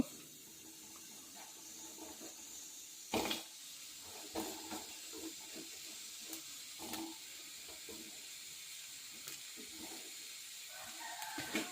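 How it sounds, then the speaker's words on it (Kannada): Onion and spices go into hot oil for hitikida avarekalu saaru, giving a soft continuous sizzle and hiss with a few louder clatters and pops, quiet and close. "ಇವಾಗ ಎಣ್ಣೆಯಲ್ಲಿ ಕರ್ಕೊಂಬೇಕಾಗಿರುವ ಸಾಮಗ್ರಿ ಹಾಕ್ತಾಯಿದ್ದೀನಿ"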